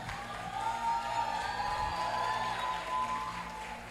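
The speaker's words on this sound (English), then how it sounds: "Please, a round of applause for her." Applause and faint cheering from a TEDx audience, moderately distant and steady, with some scattered whoops in the crowd and a low background hum.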